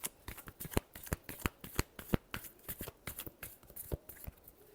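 Tarot cards are shuffled by hand in quick, crisp riffling bursts and slaps, a close, fairly quiet run of rapid papery clicks lasting several seconds without talk.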